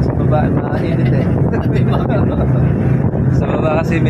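Strong wind roars steadily across the microphone on a mountain road in Mindoro, loud and continuous, with a voice talking underneath.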